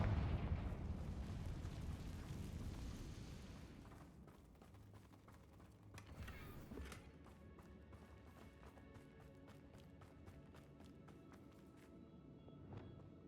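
A Confringo blasting spell explodes in the Hogwarts Legacy video game, a loud rumbling burst that fades into a quieter crackle and a second smaller blast around six seconds in, with lighter pops trailing after.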